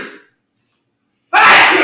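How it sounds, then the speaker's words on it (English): A single loud, sharp sneeze bursts out near the end after a short trailing bit of speech and a second of silence, close and forceful. "I'm going to sneeze."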